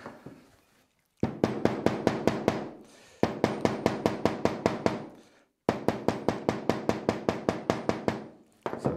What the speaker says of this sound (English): So let's give that a little hammer down.